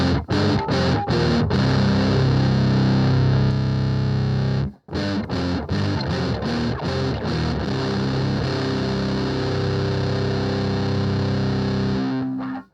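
Electric guitar through a Sondery metal distortion pedal in turbo mode, with heavy saturated chugging riffs and palm-muted stabs, a brief stop midway, then more loud, dense distorted playing to the end.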